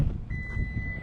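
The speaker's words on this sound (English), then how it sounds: "I don't know what that beep is." A steady high electronic beep tone sounds continuously, with a low engine rumble underneath.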